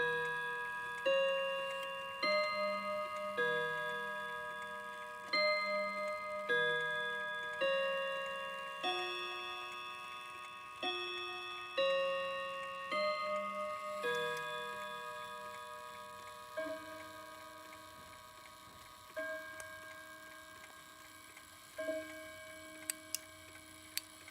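A Seth Thomas mantle clock with hammers ticks steadily and strikes, ringing chime tones sounding at regular intervals and decaying slowly, close and clear in a quiet room with no speech.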